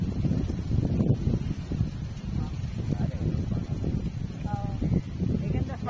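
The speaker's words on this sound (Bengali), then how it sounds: "এখানে হাওয়া হচ্ছে প্রচন্ড" Strong wind by a river in a park buffets the microphone in steady low rumbling gusts, with people talking nearby throughout.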